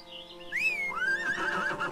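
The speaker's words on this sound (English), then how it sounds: "I got a horse." A horse in the video game ArcheAge lets out a single shrill whinny, a rising then wavering neigh lasting over a second, clear and fairly close against quiet game ambience.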